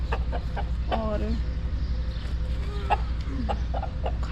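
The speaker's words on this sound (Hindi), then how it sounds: "तो ये असील मुर्गा है" Several short clucks from an Aseel rooster come in scattered bursts over steady low background noise.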